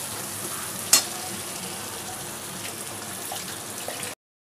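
Spice paste sautéing in a pan for an aloo potol prawn curry, a continuous close sizzle with a sharp clink near the start and faint stirring scrapes, no voices.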